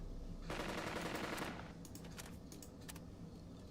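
Bursts of machine-gun and rifle fire in the Burden of Command war game: a long dense rattling volley, then scattered sharper shots crackling at a distance against a steady rumbling background.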